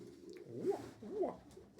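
Pigeons in a loft give two soft, rolling coos in quick succession, close and clear against a quiet background.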